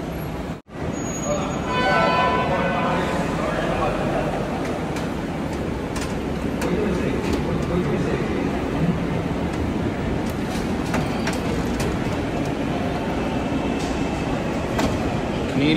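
Disneyland park train in Los Angeles rolling along, a steady loud rumble of wheels and carriage noise that fills the whole stretch, with brief voices under it.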